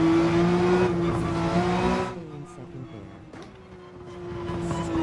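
A race car engine on a fast lap in Gran Turismo 7 holds a steady high-pitched drone, loud at first, then eases and dips quieter midway before building again toward the end.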